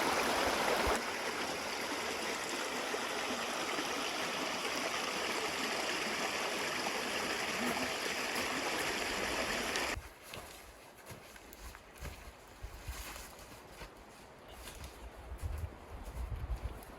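A stream of fresh, drinkable water runs through wilderness Crown land, giving a loud, steady rush for about ten seconds. It then drops to a quieter flow with scattered knocks and shuffling nearby.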